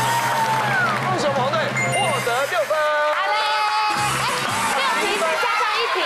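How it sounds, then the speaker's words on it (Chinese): A children's game-show audience cheers, whoops and shouts excitedly at a school competition, a lively crowd roar with high young voices, heard over bright music-like tones. "来，各位为我掌声鼓励一下吧"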